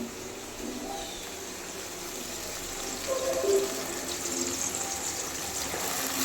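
Water is poured into a cooking pot, a steady, moderately loud gush and splash that swells slightly partway through, heard close up with no talking.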